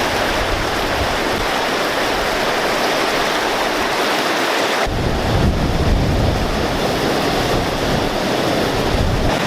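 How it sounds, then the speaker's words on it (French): A waterfall in high water roars as a loud, steady broadband rush, close and continuous throughout with no voices. "Vous l'avez peut-être deviné, c'est la cascade."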